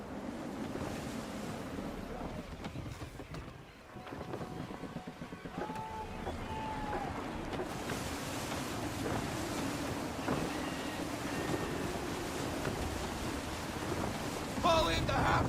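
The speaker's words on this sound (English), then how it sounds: "Wind looks to be shifting. Stay alert, Connor. Gusty winds can be difficult to manage." Wind and waves surround a sailing ship in the game Assassin's Creed 3, a steady rushing surf and gusting wind with creaking, while a voice speaks over it.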